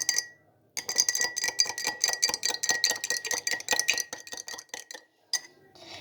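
A utensil stirs a mixture briskly in a bowl, giving a rapid, even run of sharp clinking taps that continues for several seconds, then slows into a few scattered knocks, close and clear with no talk.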